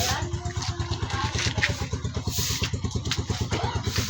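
A motorcycle engine runs steadily with a rapid pulsing putter, close by and fairly loud throughout, with faint voices in the background.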